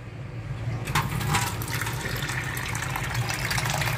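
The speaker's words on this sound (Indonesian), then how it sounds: "kita hidupkan airnya" Tap water drawn from a home groundwater supply runs in a steady, close, moderately quiet stream with a continuous splashing hiss and no talking.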